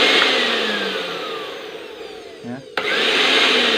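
A repaired Panasonic blender runs with a steady loud whirring drone, dips briefly, then clicks and restarts at full speed, with a short spoken word over it.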